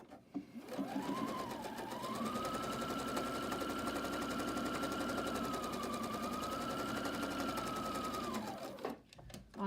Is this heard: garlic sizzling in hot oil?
no